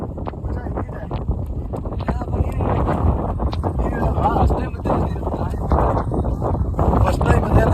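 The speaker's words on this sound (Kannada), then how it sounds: "ಫುಲ್ಲು ಗಾಳಿ ಇದೆ." Strong wind sweeps the Mullayanagiri hilltop, Karnataka's highest peak, in a constant roaring rush that buffets the microphone with low thumps throughout.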